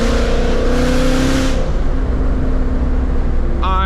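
A supercharged 5.2-liter V8 car accelerates hard, its engine roaring loud and close and climbing in pitch, then easing off, with a brief shift in tone near the end.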